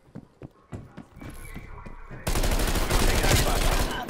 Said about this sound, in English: Oh, I thought I heard footsteps.